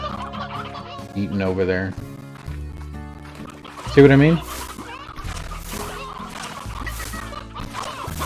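Chickens in the game Slime Rancher cluck and squawk in the glass desert area, with loud bursts over background game music while a person talks.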